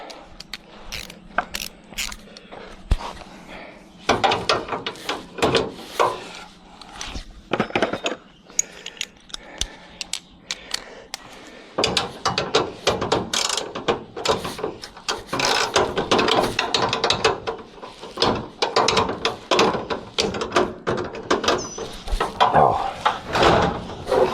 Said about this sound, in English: Let's grab the right wrench for this.